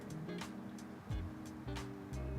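Water poured from a jug into a dry fernleaf cactus houseplant, a close splashing trickle that runs steadily with brief surges as the pour shifts.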